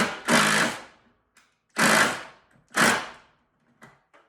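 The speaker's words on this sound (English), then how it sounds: "I'm just going to lag bolt these two bottom holes in so I can hang the reel." Three loud, drawn-out mechanical bursts, each about half a second, with short gaps between, as a power driver sinks lag bolts into pre-drilled wood up close to mount an air hose reel.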